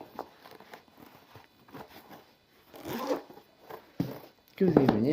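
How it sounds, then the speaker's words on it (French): A small pouch is torn open at its notch in a few short ripping, crinkling pulls that build to a louder tear at the end, close up, with a voice speaking softly around them. "je vais ouvrir complètement la petite pochette"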